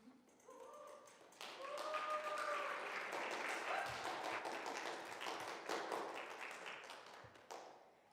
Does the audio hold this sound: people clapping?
yes